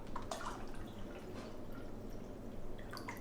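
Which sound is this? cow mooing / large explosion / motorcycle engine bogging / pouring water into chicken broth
pouring water into chicken broth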